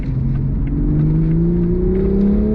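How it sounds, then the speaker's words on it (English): A 2022 Toyota GR Supra engine rising in pitch as it revs, a loud, smooth, steady drone heard from inside the car, with no talk. "Nice on the downshifts."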